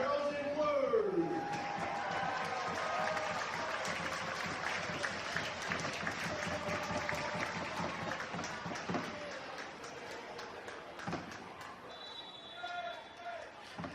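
Sydney FC members and fans cheer and applaud at Leichhardt Oval before an A-League women's match against Melbourne Victory, a steady, dense crowd roar with clapping that holds throughout, a whistle-like tone rising briefly near the start and distant calls mixed in.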